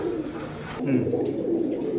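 Jacobin pigeons coo in low, rolling murmurs close by, with other pigeon calls and a voice talking over them in a busy setting.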